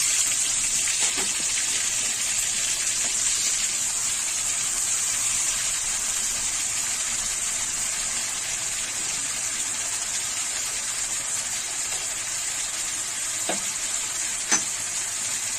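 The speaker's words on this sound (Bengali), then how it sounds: "জিরেটাকে দিয়ে দিলাম, তার সাথে আমি টমেটোটাও দিয়ে দিলাম, যেটা পেস্ট করে রেখেছিলাম।" Cumin and tomato paste frying in a pan for badshahi palak paneer, giving a steady, close hiss that runs unbroken throughout with a few faint clinks of stirring and no talk.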